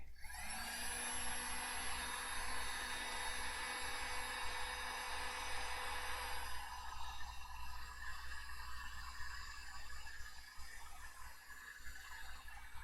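A heat gun shrinks heat shrink tubing over a steel line during auto repair work. It gives a steady, faint, airy whir that holds evenly throughout, with no voices.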